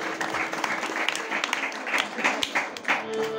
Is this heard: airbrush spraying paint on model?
no